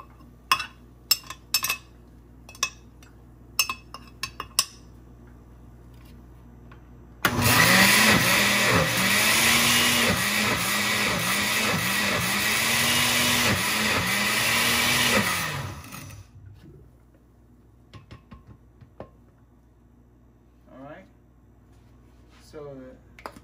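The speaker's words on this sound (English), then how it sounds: "so we're gonna blend it" An electric blender whirs loudly for about eight seconds as it blends pandan leaves, its motor pitch wavering in rhythmic surges, set between scattered clinks of dishes and utensils in a home kitchen.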